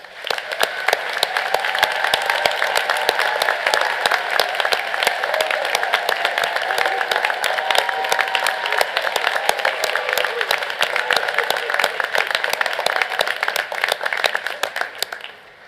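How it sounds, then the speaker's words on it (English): A large audience at a university graduate commencement ceremony applauds the graduates with dense, sustained clapping that runs steadily for about fifteen seconds before tapering off. "So let's applaud the graduates again as a group now"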